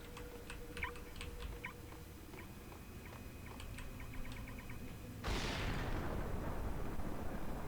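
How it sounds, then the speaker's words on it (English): A thrown bomb blows up in the video game Max Payne: a sudden loud blast cuts in after a run of faint, scattered ticks and clicks, then rolls on as a steady, heavy rumble. "Did you just throw a bomb?"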